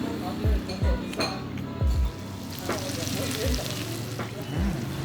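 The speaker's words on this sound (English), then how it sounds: "the sizzling deer meat, which comes in a kind of hot stone plate" Deer meat with onions and sesame seeds sizzling on a hot stone plate at a table in Sapa, Vietnam, a continuous frying hiss broken by occasional clinks of cutlery and crockery, with people talking over it.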